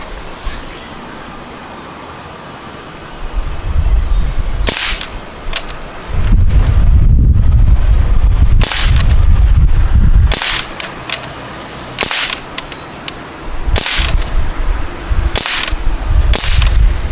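Umarex Ruger 10/22 air rifle firing from a freestanding position outdoors, a string of sharp, spaced single shots, fairly loud, over a persistent rumble of nearby traffic.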